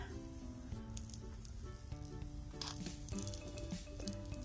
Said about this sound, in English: let's demold this little baby